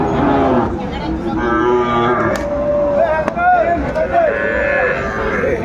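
Young bull calves on a cattle farm in Lakshmipur, kept for Qurbani sale, moo loudly and close by: a few long, drawn-out lowing calls overlap one another above a constant background murmur of farm noise.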